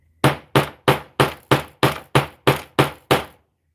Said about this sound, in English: I can't imagine why you would be whacking your wire more than this